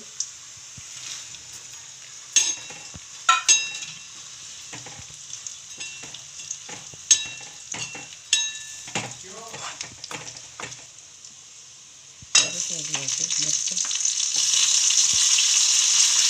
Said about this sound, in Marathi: मिरच्या बुजायचे चांगले